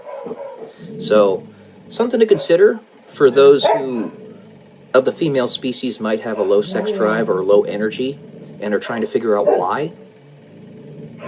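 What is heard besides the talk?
dogs barking and growling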